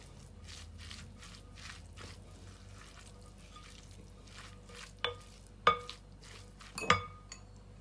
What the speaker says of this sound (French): Et je mélange puisque j'ai la viande encore chaude.